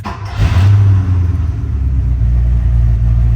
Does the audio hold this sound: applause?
no